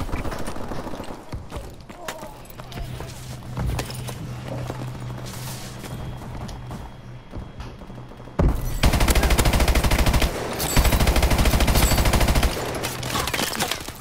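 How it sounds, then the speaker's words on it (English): Sentry gun firing during a Call of Duty: Advanced Warfare match: sustained automatic gunfire rattles through most of the stretch, growing louder and denser toward the end amid other game noise. "Oh my god, a sentry gun."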